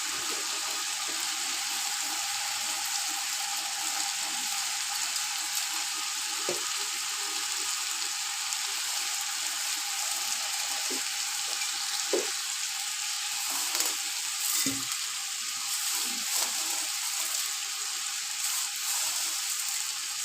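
Vermicelli (sevaiyan) simmering in a pot of boiling water for savory namkeen sivaiyan, a steady bubbling hiss that runs unbroken and close, with a few faint clinks over it.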